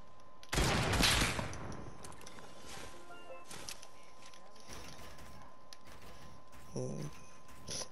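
A quick burst of automatic gunfire in the Fortnite video game, loud for about a second, followed by quieter mechanical clicks and a short later shot, with no talk over it.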